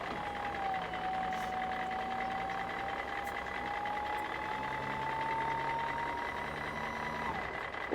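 A toy CAT construction excavator emits a steady, continuous electronic reversing beep over a constant mechanical motor hum, close and fairly loud, with no talking.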